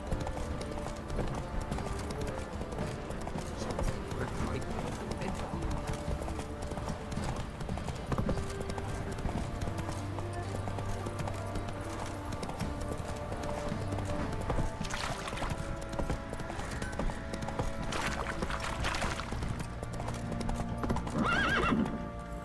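Hooves clip-clop in a fast, steady rhythm as a horse gallops in The Witcher 3, with an occasional whinny over a low bed of game ambience.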